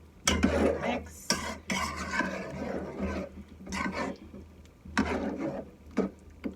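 A spoon churns Trini-style pelau with salt in a pot, making repeated scraping, rustling strokes in uneven bursts. The stirring is close and moderately loud, with no voices.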